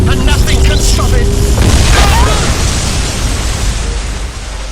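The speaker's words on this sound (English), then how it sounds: "The explosion is coming now, and nothing can stop it." An explosion in an audio drama booms out loud and close, a heavy blast followed by a long rumbling roar that slowly fades, with no speech over it.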